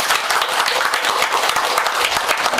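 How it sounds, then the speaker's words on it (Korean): Audience applause at a Korean Buddhist Taego Order ceremony, a steady dense patter of many hands clapping at a fairly close, even level throughout. "박수 한번 부탁드립니다."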